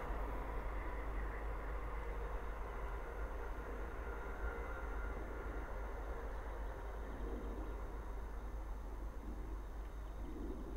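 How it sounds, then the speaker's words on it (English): A Class 350 electric multiple unit running from Northampton to London Euston passes on the West Coast Main Line at Linslade, a steady rushing rumble of wheels on rail that holds at an even, moderate level for about eleven seconds. "the next train to pass by is 350, 458 leading"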